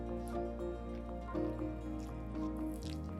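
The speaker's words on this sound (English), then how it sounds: "I'm going to start adding in water." Water poured in small additions into bottle gourd (lauki) chilla batter in a kitchen, a soft close dripping and trickling over a steady tonal background hum.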